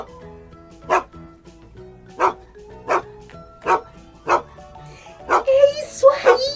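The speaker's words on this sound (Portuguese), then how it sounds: "É do cachorro!" A dog barks in an educational animal-sounds game for young children, six separate woofs spaced about a second apart and then a quicker cluster near the end, fairly loud over a soft musical backing.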